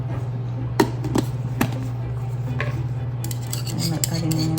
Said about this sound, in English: Add another tablespoon of mayonnaise